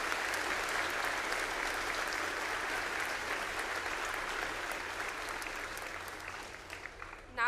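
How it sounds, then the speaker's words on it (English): Steady, dense applause from a school veterans assembly audience fills the hall, holding evenly before tapering slightly at the end. "one more round of applause, please, from all of our veterans"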